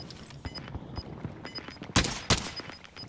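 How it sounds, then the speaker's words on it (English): Call of Duty gunfire: scattered sharp shots crackle throughout, with two louder, closer bursts near the end standing out above the quieter background reports. "He's shooting me."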